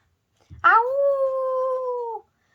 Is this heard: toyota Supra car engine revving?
no